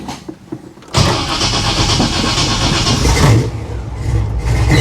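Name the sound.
1955 Chevy Nomad gasser engine starting and revving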